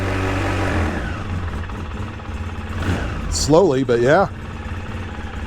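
A Polaris Sportsman 700 ATV engine idles with the choke just turned off, a steady low rumble that holds throughout while people talk briefly nearby.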